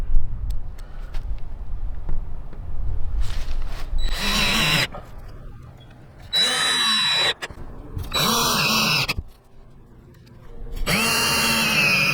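A cordless drill drives screws around a box truck RV door in several whirring bursts of a few seconds each, loud and close, with quieter handling knocks between runs.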